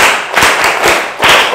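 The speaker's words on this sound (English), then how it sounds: "Let's clap for Asantua." A classroom of students claps for a classmate during a math lesson: several loud, close, sharp claps in a quick rhythmic pattern.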